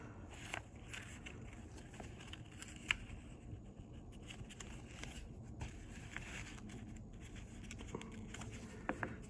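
Watercolor and a Lyra stick rub across paper in quiet, close, irregular scratchy strokes with occasional small taps.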